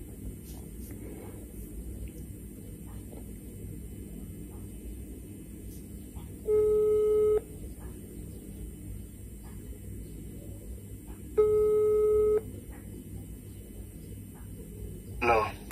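Two steady electronic ringback tones, each about a second long and several seconds apart, over a low rumbling background hum.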